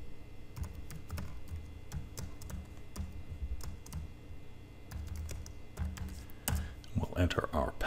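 Password typed on a computer keyboard, a quick close run of clicking keystrokes with short pauses, someone speaking over the end.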